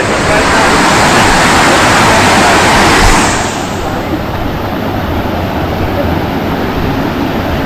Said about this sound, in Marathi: खळखळाट नद्या वाहत